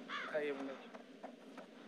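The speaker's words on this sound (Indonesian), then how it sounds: "Burung gagak." A crow caws in a horror video game, one short harsh call close by, followed by quieter game sounds and a voice speaking over them.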